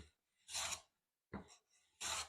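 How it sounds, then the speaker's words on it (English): A hand plane takes wispy shavings from a wooden board in three short, breathy rasping strokes separated by brief silences, close and fairly quiet. "See, we're taking wispy shavings."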